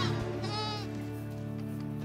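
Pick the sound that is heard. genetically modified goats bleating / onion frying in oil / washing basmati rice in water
genetically modified goats bleating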